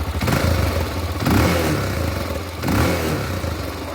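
A motorcycle on its stock exhaust revs three times, each blip rising loudly and then settling to a rough, clattery idle, heard up close with no talking.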